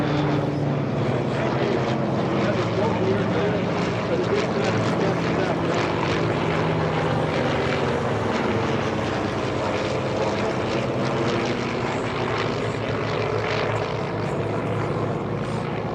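Douglas Skyraider warbird propeller aircraft flying at an airshow, a loud, continuous radial-engine drone with a rough propeller buzz, steady throughout.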